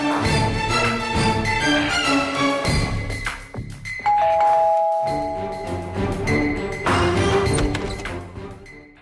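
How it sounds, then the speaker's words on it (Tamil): A doorbell chimes in a ding-dong pattern, loud and clear, with a sustained ringing tone toward the middle over a busy background. "ஏதோ காலிங் பெல் அடிக்குது"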